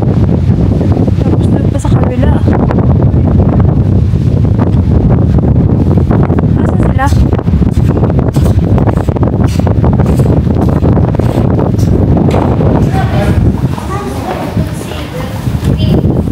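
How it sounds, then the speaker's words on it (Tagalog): Strong wind buffets a handheld microphone outdoors near a tree and a house, a constant loud low roar that eases slightly near the end, with voices talking underneath. "But it's so windy."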